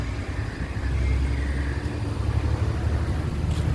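An open-top bus drives along a road, its engine a steady low rumble with wind and road noise, close and constant, with no talking.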